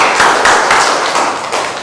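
Students in a university mathematics class clap for a presenting group, a short burst of brisk, close, fairly loud handclaps with a few sharper accented slaps.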